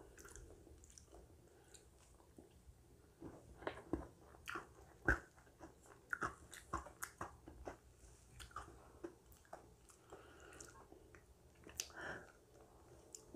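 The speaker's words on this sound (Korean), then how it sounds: "초코 브라우니 먹어볼게요" Chocolate brownie bingsu eaten up close: soft squishy bites and chewing with occasional crunches and wet smacks, spaced irregularly over quiet background, no speech.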